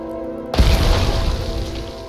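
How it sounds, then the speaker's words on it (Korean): A loud explosion bursts out in the video game Zombie Night Terror, a sudden booming blast after a half-second of quiet tones, then a rumbling, crackling decay that fills the rest of the moment. "폭발."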